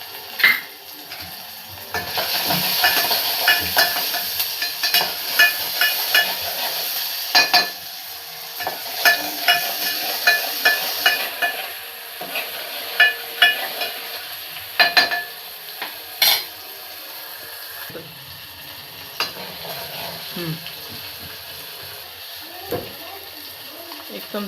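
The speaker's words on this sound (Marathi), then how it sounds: "मीठ टाकूया कांदा भाजण्यासाठी।" Onion fries with salt in a pan for a prawn amti, a steady sizzle under repeated clinks and scrapes of a spoon against the pan, close up, with a voice speaking at times.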